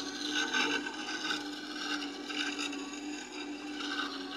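Round chisel being sharpened on a sharpening stone, a continuous close rubbing and grinding scrape with gentle rhythmic strokes.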